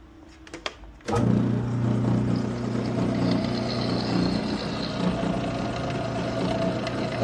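A hand drill boring holes through metal mounting brackets during a Model A Ford hot rod engine and transmission install, a steady loud whirring drone that starts abruptly after a second of quiet clatter and runs continuously to the end.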